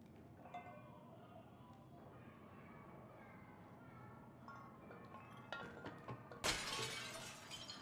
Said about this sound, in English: Great, now there's glass everywhere.